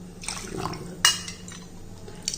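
Water poured from a cup into a cooking pot, five cups measured in, with soft splashing and clinks of the vessel against the metal, one sharper knock midway, close and moderately quiet.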